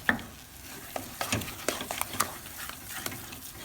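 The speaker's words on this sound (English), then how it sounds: "I decide to stir the flour first, so I don't have a lot of crumbs" Flour being stirred into pâte à choux dough in a pan, a series of soft scraping and slapping strokes of the spoon against the pan with light sizzling beneath, close and irregular.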